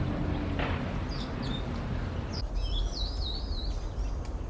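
Senegal parrots calling in the wild in The Gambia, a few shrill, squeaky calls scattered over steady outdoor background noise, with a busier run of chirps in the second half.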